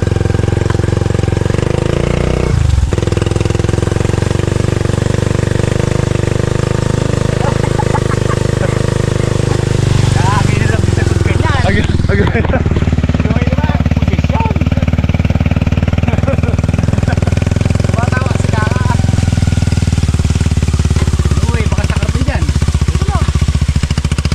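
An engine-driven pump draws water from a shallow river to irrigate a string bean field. Its steady, loud engine drone runs through the whole stretch, with people talking over it.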